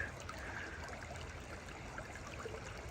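A creek flowing steadily, a constant close wash of moving water with a soft trickle and no pauses or voices.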